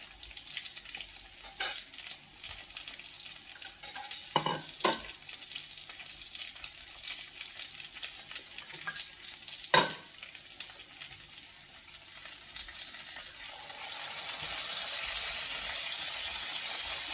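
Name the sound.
burger buns frying in a pan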